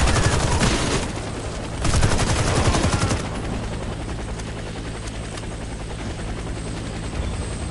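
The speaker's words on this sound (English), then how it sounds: "Get to the helicopter for extraction." A helicopter's rotor thumps loudly and steadily during an extraction in the Warface shooter game, joined by bursts of gunfire early on before settling into a continuous drone.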